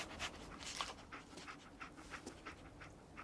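Dogmeat, the dog companion in Fallout 4, pants in quick, soft breathy bursts close up, a steady rhythmic huffing that carries on throughout with no talking over it.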